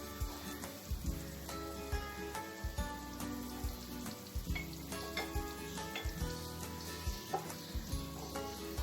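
Quiet sizzling of red chilli and cumin powder frying in oil in a pan, punctuated by regular clacks of a utensil stirring, with no voices.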